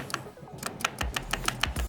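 Keychron K8 Pro mechanical keyboard fitted with silent red switches, rattling stabilizers adding to the keystrokes; about a dozen close, fairly loud clacks come in quick uneven bursts, with no talking.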